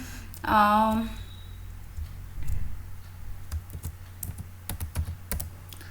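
Typing an address on a computer keyboard: someone speaks briefly at the start, then scattered light key clicks follow in irregular bursts, close and fairly quiet.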